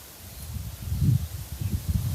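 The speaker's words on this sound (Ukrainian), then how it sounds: "Вітер віє і валить мені" Low, gusty rumble of wind buffeting close by, rising and falling in uneven bursts with no voices.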